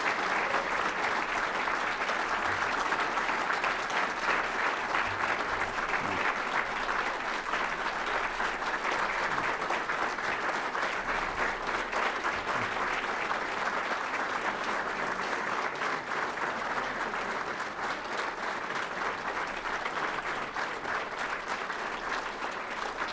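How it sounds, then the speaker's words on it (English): Sustained applause from a large crowd, steady and fairly loud, continuing without pause throughout. "May we have a round of applause for those standing in recognition of their service."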